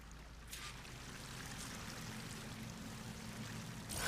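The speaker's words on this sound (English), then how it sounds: "That waterfall must be coming from somewhere." Steady rushing waterfall from the Horizon Forbidden West game, a continuous broadband roar of falling water that holds at an even level throughout, with a brief louder surge near the end.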